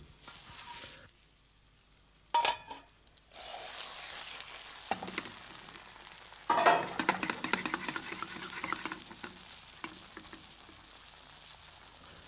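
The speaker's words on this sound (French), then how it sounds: "Lorsque la crêpe est cuite d'un côté, vous la retournez à l'aide d'un couvercle de casserole" Steady sizzling of crêpe batter cooking in a hot pan, with a few sharp clatters and scraping sounds from utensils and a saucepan lid against the pan.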